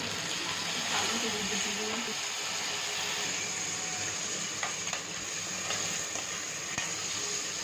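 Onions and tomatoes being sautéed in a pan for tomato rasam: a continuous sizzle and hiss with occasional stirring scrapes, close and steady, with light talk underneath.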